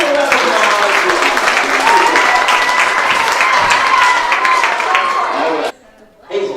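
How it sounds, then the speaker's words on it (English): Loud, close applause from an audience at a summer reading program magic show, mixed with cheering and crowd chatter, then stopping abruptly before a brief pause and a voice. "Give a round of applause"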